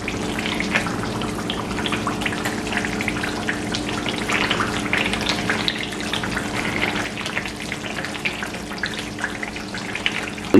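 Coconut milk fries and bubbles in a pan while being cooked down into coconut oil, a steady close sizzle with dense crackling and popping bubbles throughout.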